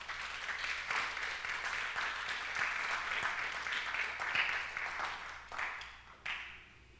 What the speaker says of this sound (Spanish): Dele un aplauso al Señor.